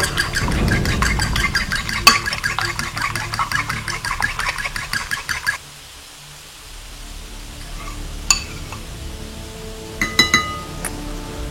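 A whisk or fork clinks rapidly against a bowl while beating an egg, a busy run of close, bright metallic taps that stops midway, followed by a quieter pause and a few scattered clinks.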